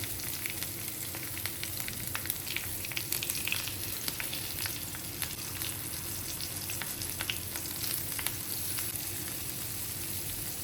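Idli mutta snacks fry in oil in a pan over a medium flame, giving a constant close sizzle with scattered crackles and pops throughout, and no one speaks.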